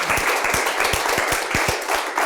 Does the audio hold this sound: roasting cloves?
no